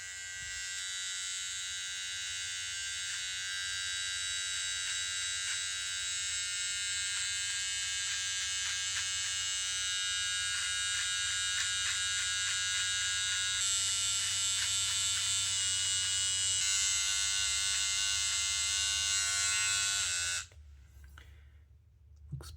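A Solati cordless hair trimmer hums in a steady, close electric buzz while trimming a mustache, holding almost unchanged for about twenty seconds before cutting off abruptly.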